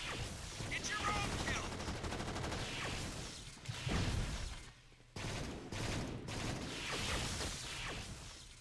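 Dense blaster fire in Star Wars Battlefront 2 (2005) on a modded Halo security base map, rapid volleys of shots and crashes, loud and continuous with a brief lull, with voices heard beneath the battle.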